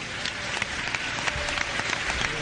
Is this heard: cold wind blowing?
no